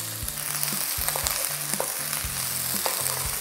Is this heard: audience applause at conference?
no